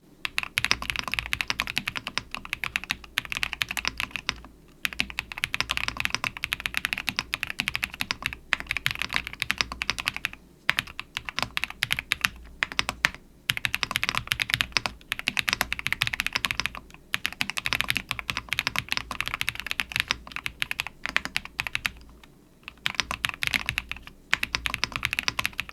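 Continuous keystrokes on an Epomaker RT80 75% wireless keyboard, a steady close stream of clacky switch presses with brief pauses between bursts of typing, heard alone with no talking.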